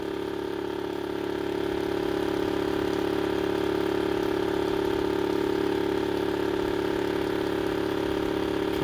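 A 3D printed brushless DC motor spins at high speed, producing a steady loud whine-like hum that holds constant pitch throughout, close up with no voices.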